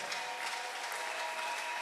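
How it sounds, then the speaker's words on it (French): Congregation applauding during an evangelical church service in Lukunga, a steady wash of clapping from many hands, fairly distant and even, with no voices standing out. "Acclamez très fort Jésus-Christ"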